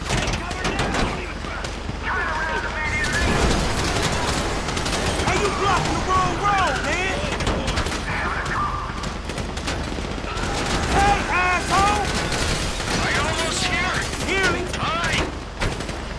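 Rapid automatic gunfire and repeated shots in the video game GTA 5, loud and continuous through most of the scene, with bursts overlapping and people talking excitedly beneath the shooting.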